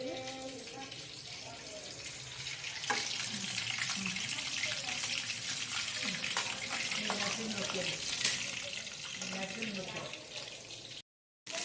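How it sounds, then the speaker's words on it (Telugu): Food frying in a pan in a home kitchen, a steady broadband sizzle running throughout with someone talking over it close by, then a brief cut near the end. "ఇదిగోండి ఇలా ఫ్రై అవుతుంది కదా"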